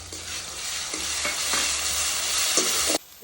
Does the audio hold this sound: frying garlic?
yes